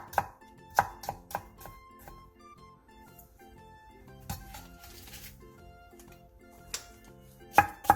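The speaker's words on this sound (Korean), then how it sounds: "중간무 1개를 취향에 맞는 두께로 얇게 채 썰어주세요" A knife julienning a radish on a cutting board, quick sharp taps in uneven bursts with pauses between, close and clear over faint background music.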